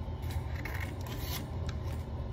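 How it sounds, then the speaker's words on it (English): Scissors cut through folded paper very close up. The crunchy, rasping snips are loud and continuous, and the cutting edges swish and crinkle as random shapes are cut out. "take your scissors and just start cutting random shapes."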